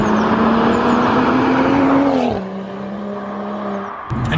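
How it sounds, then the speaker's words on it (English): A 3-litre turbocharged BMW 135i M with a valved exhaust idles loudly close by with a deep exhaust drone, its pitch dropping partway through before a sharp blip near the end. "And the noise from that 3-litre turbo"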